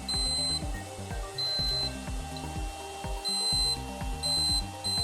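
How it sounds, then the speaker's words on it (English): A DermRays Revive skincare laser device gives off repeated electronic beeps along with a pulsing, stuttering hum, a close and steady pattern of tones with no voices. "it's giving me like a zoop, zoop, and a constant beep"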